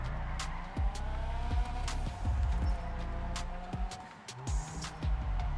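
A lowered Annis Hardy car drives in a video game with a continuous engine drone that rises and falls through revs and gear changes, with brief tyre squeals along the way.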